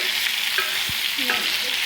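Potatoes frying in oil in a home kitchen pan, a steady close hiss of sizzling with occasional stirring scrapes and clinks, no voices.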